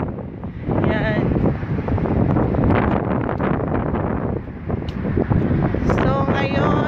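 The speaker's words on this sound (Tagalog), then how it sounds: "medyo sandstorm dito ngayon, saka mahangin" Strong wind buffets the microphone outdoors in a sandstorm while walking home from work, a loud, continuous roaring rumble that gusts unevenly throughout.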